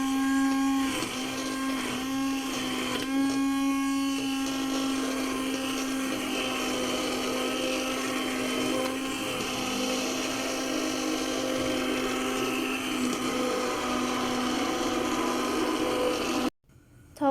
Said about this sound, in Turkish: Daha sonra gördüğünüz gibi blenderdan geçiriyoruz.